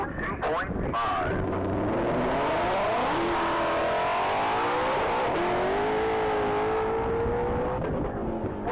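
2020 Ford Shelby GT500 on a top-speed mile run at the Texas Mile, a loud engine revving up through rising gear pulls with shifts in between, and a commentator talking over it.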